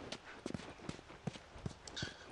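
Horse hooves clip-clopping as a character rides in the video game The Last of Us, a quick uneven run of soft thuds and clops, fairly faint and steady throughout.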